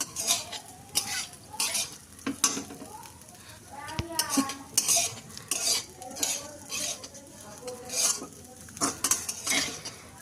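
Flattened rice stir-fried with curry leaves and dried chili, a spatula repeatedly scraping and clinking against the pan over a soft sizzle, close and rhythmic, with a voice speaking at times.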